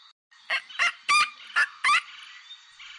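A pelican gives five short, harsh honking calls in quick, uneven succession, loud and close, with quiet gaps between them.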